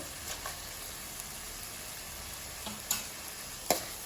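Tomato with ginger-garlic paste sizzling gently in a pan while cooking rajma curry, a soft continuous fry with a few sharper clicks of a spoon against the pan near the end.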